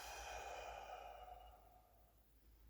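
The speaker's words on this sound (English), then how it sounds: "And exhale." A single long, soft exhale during a yoga breathing exercise, breathy and close, fading out gradually over a couple of seconds with no talking.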